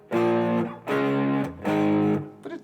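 Three sustained electric guitar chords through an overdrive pedal, each ringing about half a second to a second, with short gaps between and a quick muted strum at the end.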